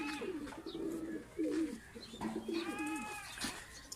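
A female pigeon of a Pakistani peplan-wala racing breed coos softly and repeatedly close by, with low rolling calls and a few faint chirps in a quiet setting.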